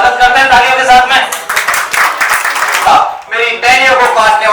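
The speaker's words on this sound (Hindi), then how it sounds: "तो उनका स्वागत करते हैं तालियों के साथ में" An audience claps to welcome a dancer at a celebration event, the applause dense and steady over a loud, crowded hall with voices mixed in, dipping briefly before swelling again.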